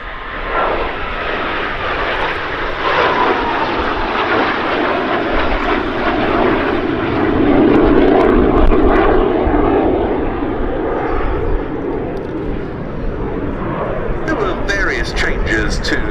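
A BAC 167 Strikemaster jet trainer flying at the Duxford summer air show gives a loud, sustained engine roar that swells and fades slightly as it passes, with a narrator speaking over it.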